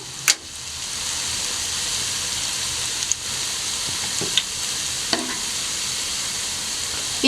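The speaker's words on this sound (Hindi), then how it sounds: "ये थोड़ी सी फ्राई हो जाए और फिर इनकी साइड चेंज करेंगे।" Jalebi fry in hot oil over a medium flame, giving a steady, bright sizzle throughout. Occasional sharp clinks and pops punctuate the hiss.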